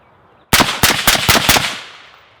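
A .223 rifle fitted with a .30 caliber silencer fires five quick suppressed shots in close succession, sharp and near, with a short fading echo after the last.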